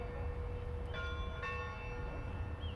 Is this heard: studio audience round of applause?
no